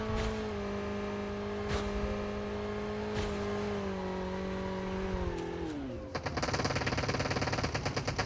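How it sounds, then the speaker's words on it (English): Gunfire from the mobile game Call of Duty Mobile, with sharp shot bursts over a droning vehicle engine whose pitch dips before a dense rapid run of automatic fire at the end, loud and with no talk. "I hear a lot of shots."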